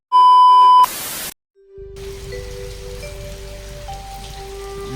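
Heavy rain falls outside in a village, a steady broadband hiss that holds after a short beep and a brief burst of noise at the start.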